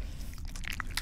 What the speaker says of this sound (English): the bone crunching noise is messed up